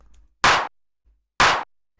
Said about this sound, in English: We have a clap.